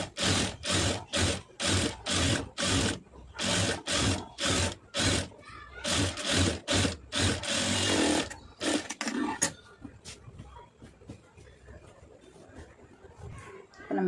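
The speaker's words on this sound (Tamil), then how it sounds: "இன்னொரு தையல் வந்து அதில் போட்டுடலாம்." Sewing machine stitching lace onto fabric for a neck design, running in rapid regular bursts of stitching with short pauses, then a longer continuous run before fading to quieter handling noise.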